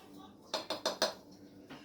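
A spoon stirs through a pot of cooked macaroni for a family macaroni cheese, giving four quick clinking scrapes against the metal in a short burst, then a softer knock after a pause; close and fairly quiet, with no talking.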